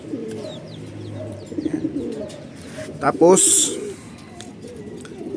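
Pigeons at a Filipino racing-pigeon loft, including a blue bar hen, cooing in low repeated rolls close by while someone talks over them, with a sharper flutter or call burst midway.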